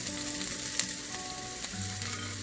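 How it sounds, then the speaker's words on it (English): Green chili, onion and carrots sautéing in a pan after roasted garlic for veg Manchurian, giving a steady close sizzle with a faint tap or two of a utensil and no talk. "I'm gonna saute it a little bit"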